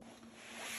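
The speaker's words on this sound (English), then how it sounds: "So let's zip this back up." A heavy-duty YKK zipper being drawn closed on a Veto Pro Pac Wrencher-LC tool bag, a short continuous rasping run heard up close that grows slightly louder as it goes.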